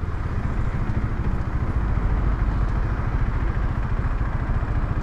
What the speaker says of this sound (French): Elle fait un bruit agaçant,